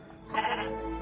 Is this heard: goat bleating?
yes